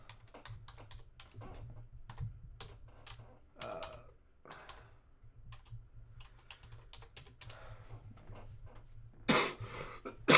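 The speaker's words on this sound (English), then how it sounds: "Sorry about all the coughing, guys." A person with congestion coughs in a quiet room during a live trading stream, soft keyboard typing and clicks scattered throughout, then a sharp, louder cough burst near the end.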